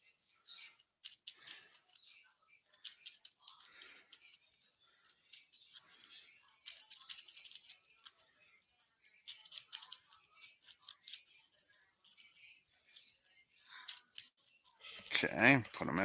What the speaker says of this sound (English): put them in the hat here. Mix them around.